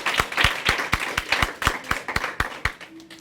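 An audience at a primary school spelling championship applauds, a loose, uneven patter of claps, fairly close, tapering off toward the end.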